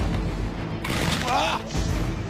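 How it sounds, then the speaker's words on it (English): Pyrotechnic mortars bursting across a live mortar field in Barcelona, a dense run of booming blasts that swells in the middle over a constant rumble, with music and a narrator's voice mixed in. "Phil dives into a live mortar field"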